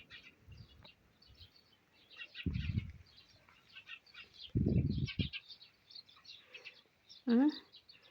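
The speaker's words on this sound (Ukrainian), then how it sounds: "Горобці побачили кішку." Sparrows chirp in short, scattered bursts outdoors in a garden after spotting a cat, with a few low thumps and rustles between calls and one sharper, louder chirp near the end.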